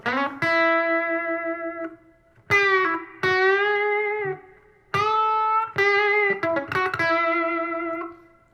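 Electric guitar played through a Fender '68 Custom Vibro Champ amp with its reverb on: a few sustained chords ring out in separate bursts, each trailing a glassy wash of reverb, with one short spoken word at the start.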